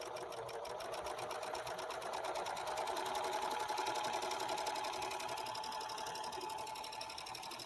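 A sewing machine runs steadily through a single layer of very sheer sequined fabric, its fast even stitching hum loud and unbroken for several seconds with no talking.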